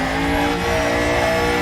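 An Audi DTM 92 race car in the RaceRoom racing game, its engine droning loud and steady at high revs with a rich buzzing tone, close and continuous for the short stretch, no talking.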